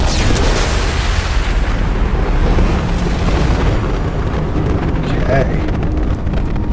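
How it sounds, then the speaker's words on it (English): A large explosion in the video game Mass Effect 2, a loud sustained rumbling roar with heavy low-end booming filling the whole stretch, with game voices talking over it. "That was a much bigger explosion."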